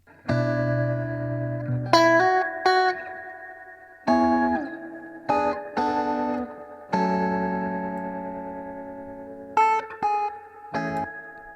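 An electric guitar plays sustained chords and short stabs through a guitar amp simulator plugin with reverb and echo, ringing out between phrases, no voices.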